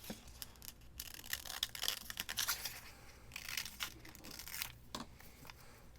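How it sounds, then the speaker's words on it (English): Paper being cut out for an antique French document journal, with soft scraping, snipping and crinkling sounds coming in irregular bursts close by, quiet overall and without speech. "So we'll go ahead and cut that out."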